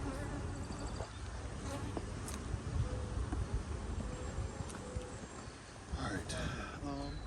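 A dense, steady buzz of honey bees swarms around an open hive with capped frames and supers, close and continuous, with occasional knocks from handling the hive.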